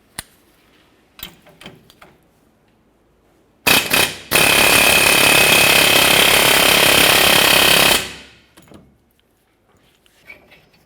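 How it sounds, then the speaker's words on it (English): Air chisel fitted with a specialty bit and 21 mm socket works a rusted rear shackle nut on a 2001-2005 Ford Explorer Sport Trac, a loud steady burst of roughly four seconds, preceded by a brief stuttering hit and a few scattered clanks. "I'm going to use my air chisel with a specialty bit on it and the proper socket"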